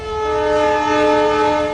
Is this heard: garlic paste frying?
no